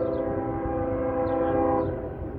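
CSX M332 eastbound freight train rolling through Marion Union Station in Marion, Ohio, a steady loud rumble of passing cars with a sustained multi-tone horn blast carrying over it throughout.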